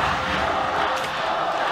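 A large esports arena crowd roars with sustained cheering and shouting from rival supporters during an MPL Season 4 grand final between Todak and Evos Esports SG, loud and dense throughout.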